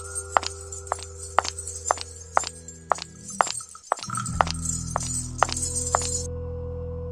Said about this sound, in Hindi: वो कदमों की आहट लगातार मेरे पीछे ही आती रही।